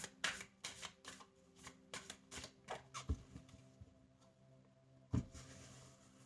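Tarot cards are shuffled and then laid out on a table: a quick run of crisp riffling snaps followed by a few softer slaps as cards are placed, close but quiet, with no voices.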